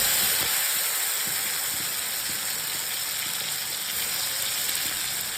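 Masala sizzles and fries steadily in a hot pan while a veg biryani with soybean paneer is cooked, a continuous close, loud hiss with faint crackles and no talk.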